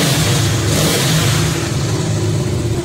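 An unsilenced motorcycle exhaust roars up close as the rider revs the engine, a loud, gritty, continuous drone that rises and holds with rapid pulsing, no talking over it.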